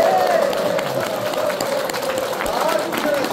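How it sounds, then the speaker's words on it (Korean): A church audience applauds warmly during a final lecture at a Korean Presbyterian elders' graduate school, the clapping forming a dense, steady wash that stays loud throughout without pauses. "박수"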